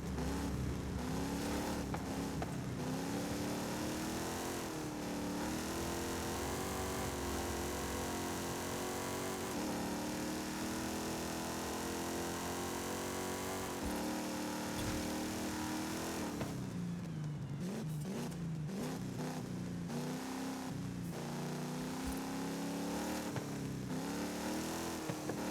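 Cars racing and drifting in the Forza Horizon 5 video game, a continuous loud engine roar rising and falling with revs and gear changes, rougher tire-squeal textures toward the end, no talking.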